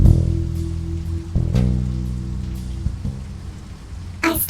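Rain falls steadily through a noir video game scene, a dense, constant hiss under low droning music tones, with a couple of sharper bursts near the end.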